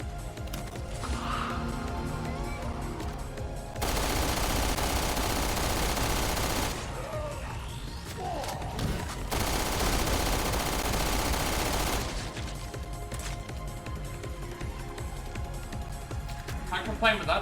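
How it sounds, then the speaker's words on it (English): Heavy automatic gunfire from incendiary guns in Resident Evil Revelations 2 Raid Mode comes in two long, loud, sustained bursts, with lighter shooting and game effects between them and someone talking over parts of it. "Yeah, I'm shooting and this has, this is setting them on fire."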